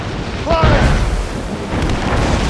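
Ship cannons fire during a naval battle in a snowstorm in Assassin's Creed Rogue, a loud booming blast with a rumbling tail and a second boom later, over ambient wind and a shouted voice.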